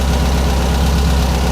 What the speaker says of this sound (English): the engine sounds nice and solid, doesn't it?